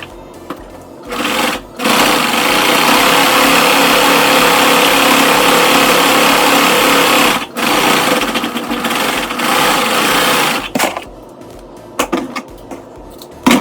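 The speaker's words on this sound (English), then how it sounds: "running a serger over sequin does not work" A serger sewing machine runs steadily over sequin fabric for a majorette uniform, a loud continuous mechanical whir with a few short pauses and restarts, alone without talk.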